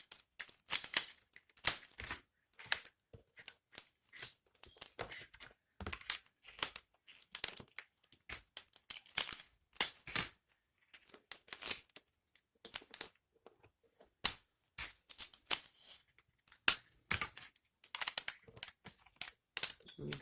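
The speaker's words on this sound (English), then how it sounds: "I'm gonna just tape that down right there" Tape pulled off the roll and wrapped around a DIY lighted shadow box, heard as quiet, irregular bursts of crinkly tearing and sticking taps spread through the stretch, with no voice.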